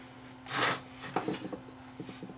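A small part slides out of a Dual 1249 turntable tone arm, giving a brief rasping scrape followed by a few light, close clicks and rubs of metal and plastic, with no talking.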